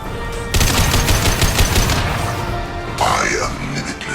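Rapid video-game gunfire from Mass Effect 2 rattles in loud bursts, a sustained volley then a second burst after a brief lull, with voices speaking over the shooting.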